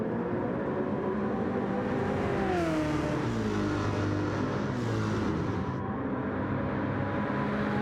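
A V8 Supercar engine in the MotorMotion Shawfire racing game roars loud and close, its pitch climbing and dropping sharply through gear changes as the car pushes on mid-race on warming tyres, with no voices.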